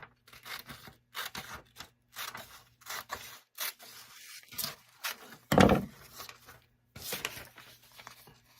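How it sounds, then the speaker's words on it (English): Scissors cutting out material for a thrift-flip decoupage project, a run of short close snips and slides in uneven bursts with brief pauses, one louder crunchy cut midway, no talking. "I'm just going to grab my scissors and cut this out"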